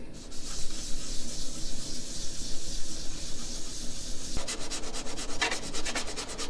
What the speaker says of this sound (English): you've still got some sanding to do